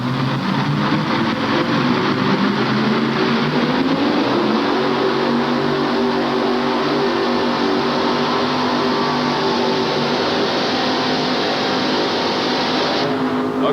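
A tractor-and-truck-pulling machine roars at full power during a pull run at the 1988 TNT event in Charlotte, North Carolina, with its pitch climbing before holding a loud, steady, sustained howl throughout.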